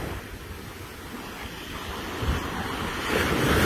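Ocean surf washing onto a beach, with a steady roar of breaking waves and wind buffeting the microphone, swelling louder toward the end.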